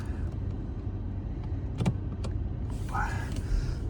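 A 2010 Skoda Octavia A5 with a 1.6 MPI petrol engine, running on gas, idles quietly as a steady low rumble, with a few brief clicks and a short whirring sound near the end.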